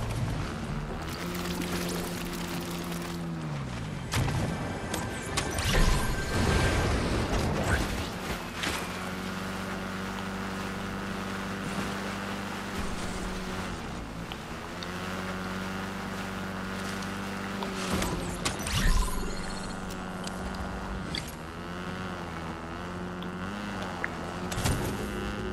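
Bike riding in Fortnite, a steady whirring ride noise with rising and falling tonal whine and wind-like rush, close and continuous with occasional louder bumps and no talking.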